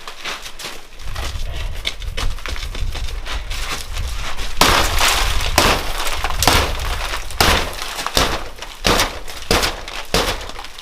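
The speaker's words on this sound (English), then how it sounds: "All the glass broke." Window glass fitted with security film and a wet-glaze attachment is struck repeatedly in a break-in test. Loud, close cracking and shattering impacts come in irregular bursts over about ten seconds, with crunching glass between the blows.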